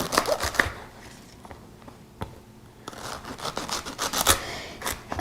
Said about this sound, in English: Then I use about a pound package of celery that I'll trim the ends off of.